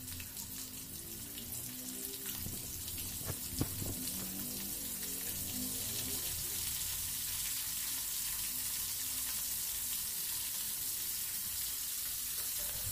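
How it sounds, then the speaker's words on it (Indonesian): Squid pieces fry in a modest amount of hot oil, giving a steady, even crackling sizzle that holds throughout at low-moderate level, with a single sharper pop partway and no talking. "siapkan minyak gorengnya dipanaskan kemudian kita goreng minyaknya tidak terlalu banyak"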